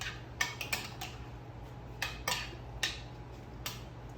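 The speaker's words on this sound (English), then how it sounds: "And give it another little stir." A dish being stirred in a pot, giving a string of light metallic clinks and taps from a utensil against the pot, spaced irregularly over a low steady hum, close and fairly quiet.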